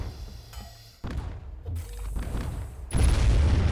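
A naval mine detonates in the BattleBoats.io ship combat game, a sudden heavy boom at about one second that rolls into rumbling blasts and a louder burst of gunfire-like explosions near the end.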